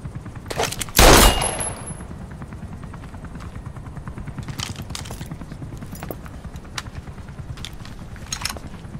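Automatic gunfire in a video game, with one loud sharp burst near the start followed by a steady stream of rapid, evenly spaced shots rattling on at moderate level.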